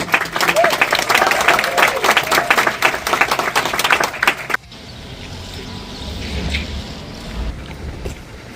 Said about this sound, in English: let's have another round of applause for our amazing